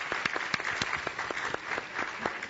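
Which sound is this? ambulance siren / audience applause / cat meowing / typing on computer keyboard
audience applause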